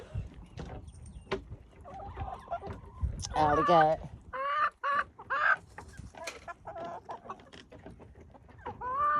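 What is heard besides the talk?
chickens clucking in a courtyard, hens and rooster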